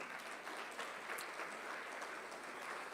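Church congregation clapping steadily in loud, even applause at a Sunday service, a dense wash of hands with no voices on top, filling the whole stretch.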